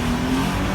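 A Mercedes CLK 320 engine revs briefly, a close, loud, smooth motor sound in a short burst.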